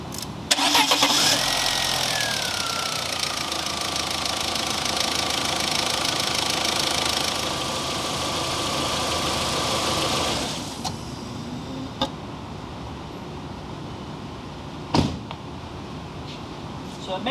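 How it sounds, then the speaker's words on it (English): A 2004 Volkswagen Passat 1.8 turbo engine cranks briefly, catches and settles into a steady, fairly loud idle for about ten seconds, then shuts off, leaving a few faint clicks and knocks. "now what we want to do is we want to crank up the vehicle and let the oil pressure build up in the vehicle"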